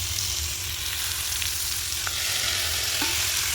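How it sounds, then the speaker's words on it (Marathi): Prawns frying and being stirred over browned onion in a kadhai, a steady close sizzle with soft scraping stirs, no voices. "आपण त्यावर टाकूया कोलंबी परतवायला"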